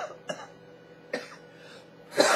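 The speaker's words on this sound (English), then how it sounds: "Excuse me whilst I cough up a lung." A person coughs three separate times, each a sharp harsh burst with quiet gaps between, the last one loudest and closest.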